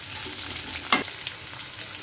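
Onion frying in a pan with green chilies and curry leaves for Bangalore-style drumstick sambar, a quiet, steady sizzle close by with one sharp spatula tap near the middle and faint stirring.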